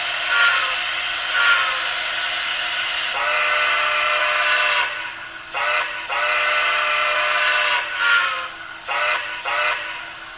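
An ATSF Berkshire T1a Broadway Limited model train sounds its steam whistle in repeated bright, chord-like blasts, a long sustained one followed by several shorter bursts with brief gaps, loud and close with no talking.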